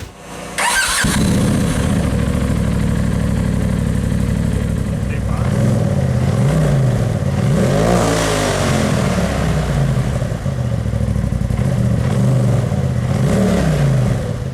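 A Polaris RZR fitted with a Trinity Racing Stage 5 dual slip-on exhaust starts up, then idles loudly and close with a punchy tone, revving up and down several times.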